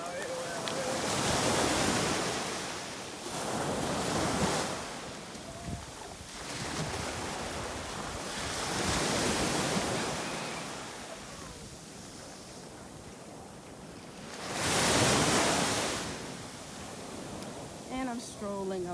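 Ocean surf and wind at Coco Beach in Dar es Salaam, Tanzania: broad washes of breaking waves swell and recede every few seconds under constant wind buffeting the microphone.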